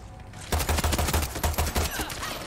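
Rapid bursts of pistol gunfire from a video game, a dense run of sharp shots fired in quick succession, loud and close, with no talking over them.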